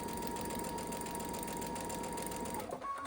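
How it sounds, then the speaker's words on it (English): A sewing machine chain-pieces foundation paper piecing, running continuously in a fast, even mechanical whir with a steady hum, close and clear, briefly slowing near the end before picking up again. "we're just going to sew on the line, chain piecing each piece as we go"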